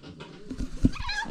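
A cat gives a short meow while trying to steal food at a Dashain gathering in Nepal; the call is brief and close, over faint background noise.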